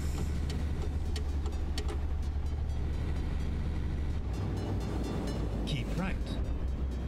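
A truck engine drones steadily and loudly throughout a Euro Truck Simulator 2 drive from Norwich to Dover, with low road rumble under occasional talk.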